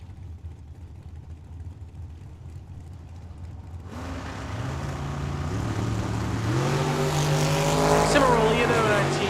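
Drag race cars including a Mustang launching at Tucson Dragway: after quiet crowd noise, engines burst in loudly and rise through revving, climbing pitches as the cars pull away, with an announcer's voice at the start.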